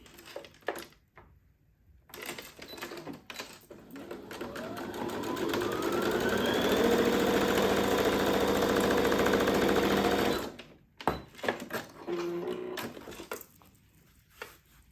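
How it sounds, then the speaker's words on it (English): A sewing machine stitches fabric for an ostomy bag cover. Short start-stop bursts come first, then a loud, steady mechanical whirring run of about five seconds, followed by a few more brief bursts. "So you've just got some little stitching going on there."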